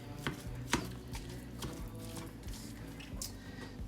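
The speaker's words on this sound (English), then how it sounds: "So I've already got my meat in the pan and I'm starting to chop it up." Ground meat for a casserole is broken up with a meat chopper in a pan, giving quiet repeated clicking and scraping taps at an uneven rhythm, faint and close.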